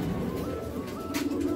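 Pigeons coo at a loft, low soft throaty calls overlapping in a steady murmur, close and continuous over a brief moment.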